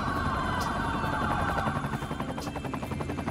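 Wailing ambulance sirens in Cities: Skylines 2 rise and fall over a dense rumbling background, with a busy, layered sound of several vehicles at once.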